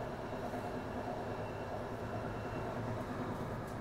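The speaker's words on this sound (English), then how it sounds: "in a train, crossing through the beautiful landscape on my way from Catania to Syracuse" Steady interior rumble of a train travelling through Sicily between Catania and Syracuse, a low continuous rolling drone with faint rail noise, constant and fairly quiet throughout, no talking.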